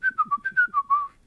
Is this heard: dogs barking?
no